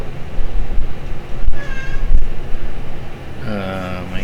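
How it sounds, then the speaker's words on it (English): A pet cat meows indoors, a couple of short wavering calls near the end, heard over steady room hum with a person talking nearby. "My cat wants attention."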